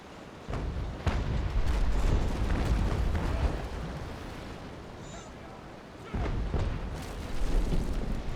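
Bow cannons of a Hercules fifth-rate sailing warship in a naval game fire in deep booming bursts, one cluster early and another later, each followed by a rumbling roll, with sea wash and faint talk underneath.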